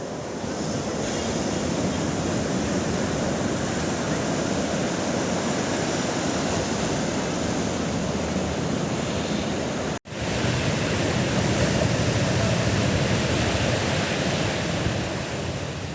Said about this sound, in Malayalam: കടൽക്ഷോഭത്തെ തുടർന്ന് ചെറായി ബീച്ചിൽ നടപ്പാതയോട് ചേർന്ന കര ഇടിഞ്ഞുകൊണ്ടിരിക്കുന്നു